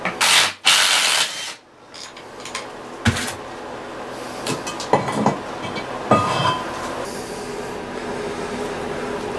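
Six 13mm bolts come out of the tail shaft of a 4R70W automatic transmission, with sharp metallic ratchet clicks and clanks in uneven bursts, close and alone.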